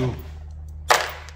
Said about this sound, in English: That bolt broke.